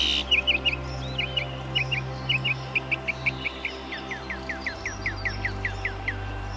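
Wild birds call from a Borneo rainforest canopy: a long series of quick, bright chirps repeats in a fast, even rhythm over a soft, steady low drone.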